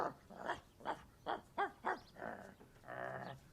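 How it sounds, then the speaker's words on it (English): A dog digging in the ground and tugging hard at a tree root gives a run of close, rhythmic grunting barks. They end in a longer, drawn-out growling whine, with no talk. "You're a naughty dog."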